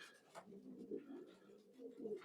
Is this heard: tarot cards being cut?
no